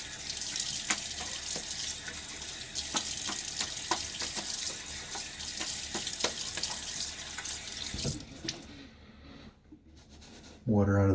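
A tap runs to rinse shaving lather from a face, a steady hissing water stream with small splashes and clinks over about eight seconds, then the flow stops; someone talks quietly nearby.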